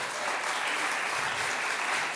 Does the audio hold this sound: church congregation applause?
yes